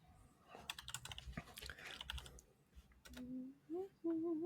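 Someone types on a computer keyboard with the microphone resting in the middle of it, giving rapid, close, uneven key clicks for about three seconds. A few short tonal vocal sounds follow.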